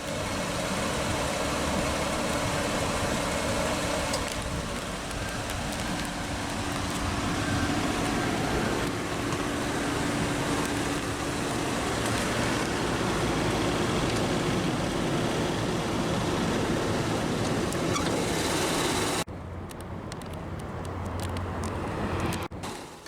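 A 2004 Lexus RX 330's naturally aspirated 3.3-liter dual overhead cam 24-valve V6 idles at a steady, even hum, with a broad low rumble that holds throughout and briefly shifts near the end.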